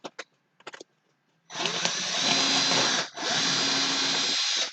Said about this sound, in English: I'm just going to use the drill